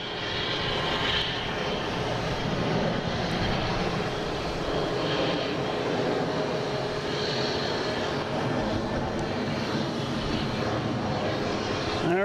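A jet airliner on its retirement flight at Boston Logan airport thunders past with a loud, sustained engine roar and rumble, heard nearly alone for the whole stretch.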